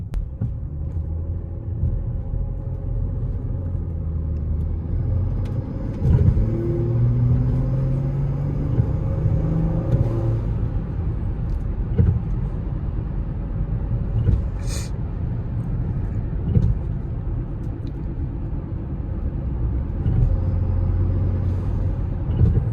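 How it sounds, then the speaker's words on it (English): A turbo car's blow-off valve gives one brief sharp hiss partway through a foggy morning drive, riding over the steady low engine and road rumble heard from inside the cabin. "I hope you guys can hear the blow off because it sounds pretty nice"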